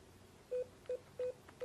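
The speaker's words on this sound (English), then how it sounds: "Enter the primary extension, followed by pound key." Series of short DTMF keypad tones from a Cisco desk phone, four separate beeps spaced at a steady pace over quiet line hiss, ending on the pound key.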